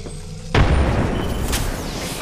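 A frag grenade detonates in the video game Apex Legends, one sudden heavy boom that cuts in after a quiet start and rolls on with a long, loud rumbling tail.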